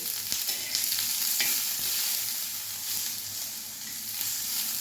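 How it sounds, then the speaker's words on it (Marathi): A cut tomato roasting in a little oil in a pan, a steady, close hiss of sizzling with faint stirring clicks, continuous throughout with no voices. "ह्याच्यामध्ये थोडंसं तेल घालूया म्हणजे हा छान भाजला जाईल"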